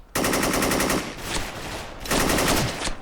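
An AN94 machine gun in the Special Force online shooter rattles off two loud rapid-fire bursts, each close to a second long, separated by quieter shots and game noise.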